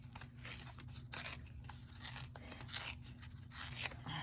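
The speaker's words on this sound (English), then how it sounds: "I'm going to take my piece of gold and I'm going to rip the edge" A sheet of gold paper being slowly ripped along its edge, heard as close, crackly tearing in short uneven strokes with no talking.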